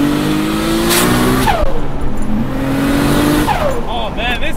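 A Nissan R32 Skyline GT-R, a rebuilt 850 hp car, accelerates hard, its engine revving up through the gears with rising whines and brief tire squeal, loud and close, while people talk over it.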